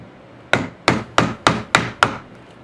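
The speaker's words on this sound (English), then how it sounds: "I'm going to move it to the right so you can see the hammer, and we're going to hit it a few times" Hammer tapping on a CPU to de-lid it, six sharp knocks spaced about a third of a second apart, each with a short ringing decay, close and clear with no talk.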